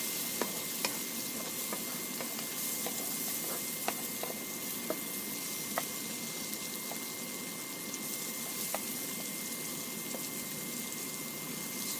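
Onions frying in a pan for a linguica sandwich, a steady dense sizzle with scattered sharp crackles and pops running throughout, close and alone with no talk.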